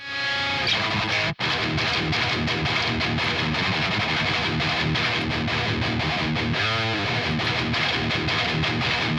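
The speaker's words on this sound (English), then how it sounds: "So you can hear how that brightens up the signal." Bright, clean electric guitar chords ring out continuously with a crisp, boosted edge through a Quad Cortex, interrupted by one brief dropout partway through.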